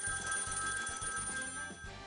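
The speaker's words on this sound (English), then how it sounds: "ringing telephones" An old-style telephone bell rings continuously in a newsroom, a steady metallic trill held throughout at moderate level.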